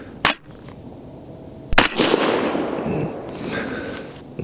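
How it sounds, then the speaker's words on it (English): Two suppressed 6.5 Grendel rifle shots fired with Hornady 100-grain ELD-VT handloads, each a sharp loud crack, the second followed by a rolling echo that fades over a couple of seconds outdoors. "I'm gonna shoot these last two here"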